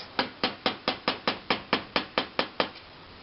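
Twelve sharp, even metallic taps from a small hammer setting glazier points in a window pane, evenly spaced about a quarter second apart, close and crisp with no talking.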